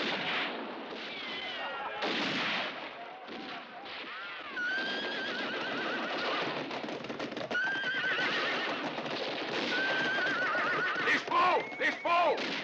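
Horses neigh and whinny repeatedly amid galloping hooves in a French action film battle scene, with shouted voices and scattered gunfire mixed through the commotion.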